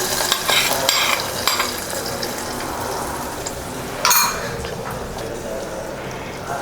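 Ghee-fried cashews and raisins tipped into simmering lentil payasam give a brief sizzle and splash, followed by stirring and bubbling close by.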